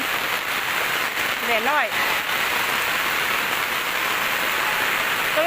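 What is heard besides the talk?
rain falling during a flood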